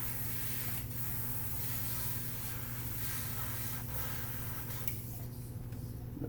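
An airbrush sprays out leftover primer as it is cleaned, giving a steady, close hiss that runs the whole time over a constant low hum, with brief bursts of extra air.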